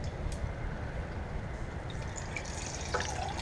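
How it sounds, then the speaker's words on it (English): Moisture from chicken wings dripping into hot deep-frying oil, a faint steady bubbling sizzle with soft crackles and a few brief pops, heard close and alone. "You can already hear the moisture dripping down into the oil"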